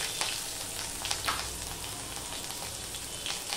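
Green chillies and grated ginger sizzling in hot oil with panch phoron, a steady close crackle with scattered sharp pops, no talk.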